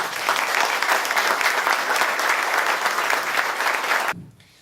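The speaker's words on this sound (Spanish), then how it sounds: "recibimos con un fuerte aplauso al compañero Sergio Berni" Loud, dense applause from an audience in Olavarría welcoming Sergio Berni, a steady wash of clapping that runs for about four seconds, then cuts off sharply into quiet.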